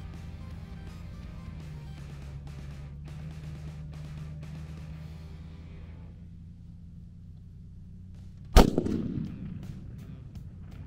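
One loud, sharp rifle shot from a 6.5 PRC Savage fired at long range outdoors, cracking near the end after several seconds of low wind rumble, then a short decaying echo.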